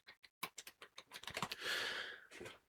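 Quick keystrokes on a computer keyboard, a run of separate close clicks that speeds into a denser flurry, then a brief whooshing breath and a couple more taps.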